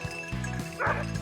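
During bird-dog training, a dog gives quick yips and whimpers in a short burst of three or four sharp cries, up close and loud.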